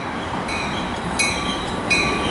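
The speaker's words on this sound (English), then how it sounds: "SF train number 2022 to Chicago Union Station is now arriving." A BNSF commuter train arrives at Naperville station, a loud close steady rumble of rolling wheels with faint squeals and clicks rising over the roar.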